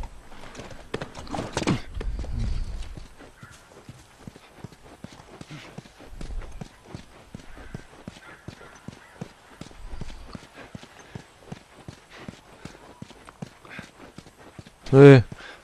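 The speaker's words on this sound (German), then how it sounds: "Oben will das Pferd da nicht hoch." Horse hooves clip-clop in The Last of Us, a long run of even, sharp steps on a hard surface with a brief snort or whinny near the end, while a player talks over them at times.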